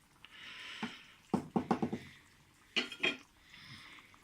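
A spoon stirs leftover pepper pith in a cooking pot, giving a quick run of clinks and scrapes against the metal, then a second short cluster of knocks, close and fairly quiet.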